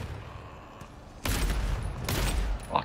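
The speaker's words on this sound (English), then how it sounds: "I'm out of ammo, but I landed two shots on it" Two loud bursts of gunshots in GTFO, fired at a monster in a dark area. They break suddenly out of a low, quiet rumble, and a short sharp crack follows at the end.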